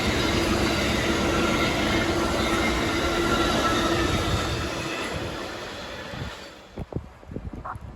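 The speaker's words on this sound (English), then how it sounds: "Amtrak 141 rolls by the station with the classic Genesis leading the way." Amtrak passenger train led by a Genesis locomotive rolls past a station, a loud steady roar of wheels and cars that fades near the end, leaving a few faint clanks.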